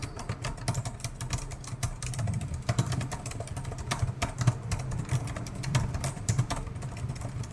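Keys on a computer keyboard tap out a busy, fairly soft stream of clicks over a steady low hum that persists throughout.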